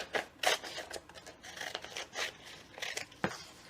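Scissors snip through a folded square of paper for a 3D paper star, a run of quick, crisp cuts close up in a quiet room, with the paper rustling in between.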